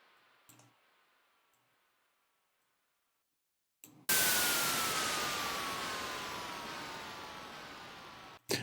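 Synthesized white noise sound effect with downsample distortion in FL Studio's Serum FX: faint crackly noise with a falling whine fades out, then a loud noise burst with a descending tone slowly decays.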